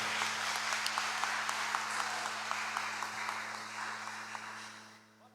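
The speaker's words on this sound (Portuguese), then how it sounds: "Mais uma salva de palmas para eles." Steady applause from a church congregation, dense clapping that gradually fades out toward the end.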